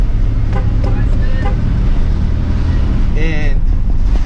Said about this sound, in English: I'm driving, but I got my hands on the wheel.